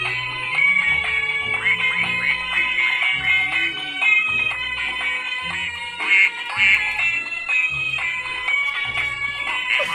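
A musical birthday card plays a tinny electronic tune with repeated cartoonish duck quacks over it, bright and steady for about ten seconds.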